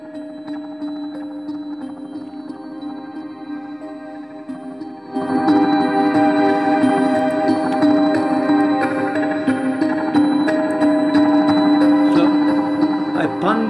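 A bell melody and sustained synth chords play in an electronic FL Studio track for a STALKER-style tune, starting thinner, then swelling fuller and louder after about five seconds, steady with no voices.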